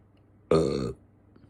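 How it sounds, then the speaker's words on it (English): A single loud burp lasting about half a second, close to the microphone, sharp onset then trailing off, alone with no talk around it. "That was a mid-burp too."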